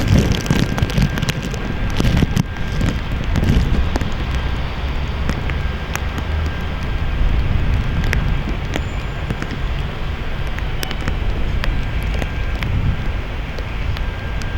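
Rain and gusting wind hit the microphone at an outdoor Canadian Army change-of-command parade in Ottawa, a constant rough hiss and rumble with scattered crackling drops.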